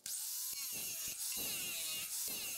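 Angle grinder fitted with a wood-carving disc grinding against a nail embedded in wood, a high whining buzz with harsh scraping pulses that repeatedly bog and recover.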